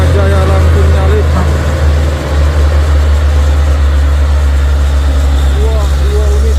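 Heavy buses and loaded trucks overtaking one another on a downhill road at Bukit Kodok, giving a steady deep engine drone that stays loud and close throughout.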